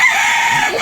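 Rooster crowing close and loud in a single sustained, slightly wavering call, heard alone without talk.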